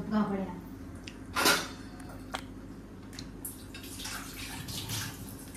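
Cloth being splashed and wrung in water nearby, with irregular sloshes and drips, while a person talks briefly at the start.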